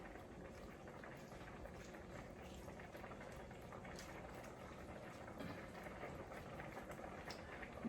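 A pan of creamy Tuscan salmon simmers quietly with spinach being added, giving a soft, continuous bubbling hiss heard close and fairly faint, with no voices.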